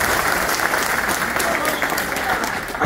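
A crowd claps at a stage event in India, sustained loud applause filling the space evenly from start to finish, with no letup in intensity.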